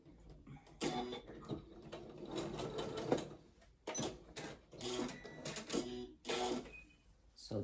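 A home sewing machine runs in bursts of rapid, even stitching, stopping and restarting several times, close and fairly loud with no talk.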